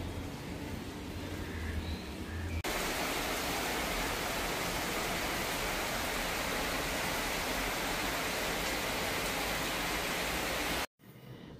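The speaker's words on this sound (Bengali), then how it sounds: "জোরে বৃষ্টি এসে গেছে" Heavy rain pours down in a steady, dense, loud roar that barely changes and runs unbroken throughout, with no voices.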